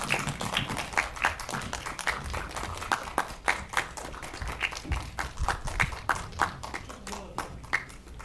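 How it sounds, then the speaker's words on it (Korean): An audience at a film event applauds with scattered, uneven clapping that rises and falls in soft bursts, moderately distant, with a little talk mixed in. "뜨거운 박수 부탁드릴게요"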